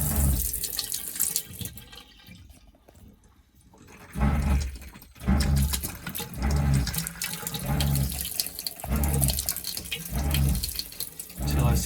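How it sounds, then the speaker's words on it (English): A faucet on a boat's fresh water system runs a water and antifreeze mix during winterizing, gushing and sputtering in uneven pulses close by, with a quieter stretch early on before strong bursts of flow return. "start to run my other faucet"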